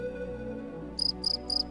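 A cricket chirps in three quick pulsed bursts, clear and close, entering after a stretch of quiet background tone.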